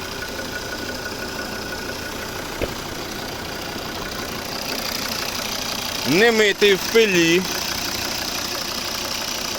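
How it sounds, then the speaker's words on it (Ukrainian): The 2.0-litre D3 diesel engine of a 2012 Volvo V50 Summum automatic idles with a steady low rumble throughout, while someone speaks briefly over it partway through. "Ось робота двигуна."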